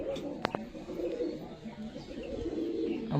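Fancy Andhra pigeons coo continuously nearby, a low rolling murmur with a couple of sharp clicks or knocks early on and faint background noise.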